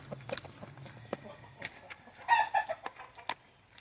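Chicken clucking close by in a series of short, uneven bursts, loudest in the middle, mixed with a few scattered knocks and background noise.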